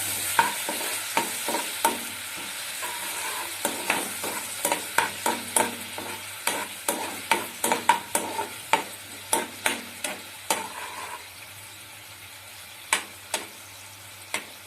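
A spoon stirs honey chilli chicken sauce in a pan, making repeated rhythmic scraping knocks over a soft sizzle, pausing briefly before a few final strokes.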